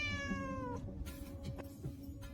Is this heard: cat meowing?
yes